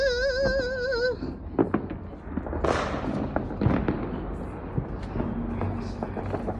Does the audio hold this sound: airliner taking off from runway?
no